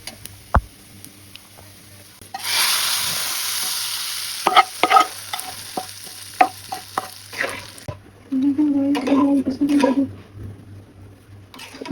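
Whole cumin and spices crackle in hot oil, a bright close sizzle with sharp stirring taps and scrapes, dropping away midway before a burst of spoon clatter and renewed frying; no speech.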